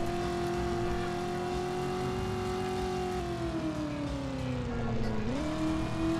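A fast car in the video game Driver: You Are the Wheelman drones with a steady, loud engine note, its pitch sagging then jumping back up near the end as it keeps driving, with no talk over it.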